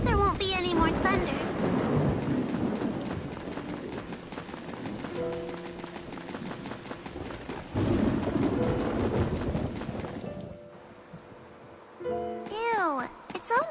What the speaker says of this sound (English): I hope there won't be any more thunder.